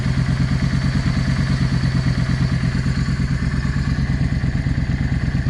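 A Yamaha V Star 650 motorcycle idles steadily up close, its engine giving a loud, even low-pitched putter with a fast regular pulse and light mechanical clatter throughout.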